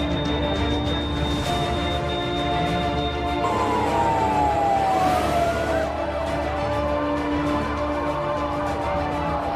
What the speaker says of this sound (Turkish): Hadi arkadaşlar, geliyor ambulanslar.